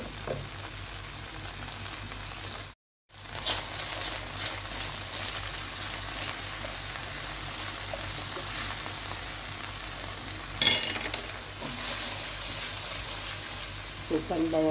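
Shrimp frying with lemongrass and ginger gives a dense, steady sizzle that fills the whole stretch, broken by a brief cut and a few stirring clatters near the end.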